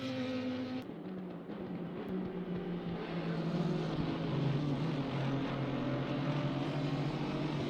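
Racing cars in a video game at Imola, an Aston Martin chasing a BMW, with steady close engine drone and rising pitch as they accelerate down the straight.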